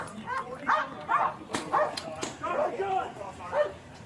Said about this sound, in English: The dog barking's not helping.